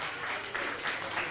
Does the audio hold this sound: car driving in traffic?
no